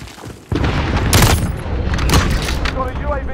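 Explosions and bursts of gunfire from the Modern Warfare video game, a sudden loud boom followed by rumbling blasts and crackling shots in a dense, busy mix.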